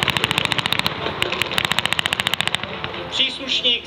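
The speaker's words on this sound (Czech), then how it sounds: "Příslušník samozřejmě zareagoval střelbou" Gunfire from a military demonstration at NATO Days in Ostrava, where a guard fires on escaping prisoners: fast, loud automatic bursts of evenly spaced shots close by, a brief pause, more bursts, then an engine-like rumble.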